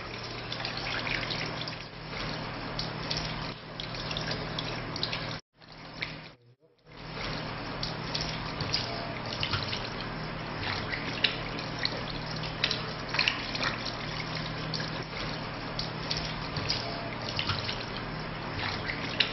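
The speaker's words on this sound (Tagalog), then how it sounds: "Hugasan ang magkabilang paa hanggang sa bukong-bukong ng 3 beses." Tap water runs steadily while feet are washed up to the ankles during ablution, a continuous close trickle and splash with brief drips, cut by a short silent pause near the middle.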